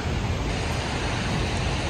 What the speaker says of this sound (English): So now this is what I call a waterfall.